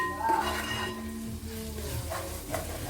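Onions sauté in a pan for a special chicken curry, a steady soft sizzle with light stirring and faint clinks of a utensil against the pan, close but fairly quiet.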